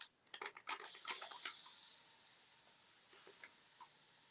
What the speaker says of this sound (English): I'm going to hit that with some more water